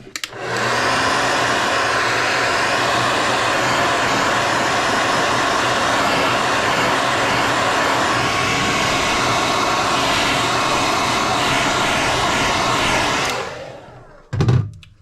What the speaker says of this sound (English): So we're going to heat set this one more time.